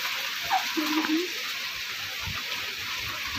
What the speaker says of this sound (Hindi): पीर को में बारिश चल रही है